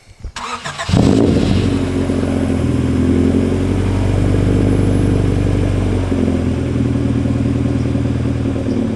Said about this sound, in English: Yeah, give you guys a cold start.